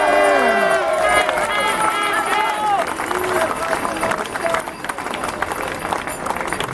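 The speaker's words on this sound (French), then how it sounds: "Applaudissez encore une fois Marina dos Santos." A large crowd at a political rally applauds and cheers continuously, dense clapping and shouting filling the whole stretch, with voices calling out over it.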